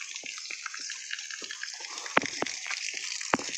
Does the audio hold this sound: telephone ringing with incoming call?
no